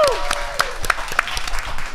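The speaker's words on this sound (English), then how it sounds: "We have real people actually clapping" A live audience at a podcast show staged in IKEA Damansara applauds, a dense stream of clapping with sharper individual claps and a whistle, while a voice speaks over it.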